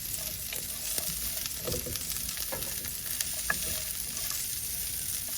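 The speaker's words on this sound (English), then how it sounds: "Don't need to add any more oil. There's plenty of oil and sausage fat in there. In goes the carrot and celery." Roughly chopped carrot and celery sizzle in sausage fat and oil in a single pot, a steady close hiss with occasional light stirring taps.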